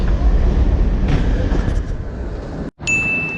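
Frankfurt main train station gives a loud, steady rumble of concourse and rail noise, with a brief dropout near the end followed by a high electronic tone.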